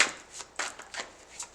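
Tarot cards shuffled by hand in quick, papery riffles, several short bursts in an uneven rhythm, close and fairly soft with no talking.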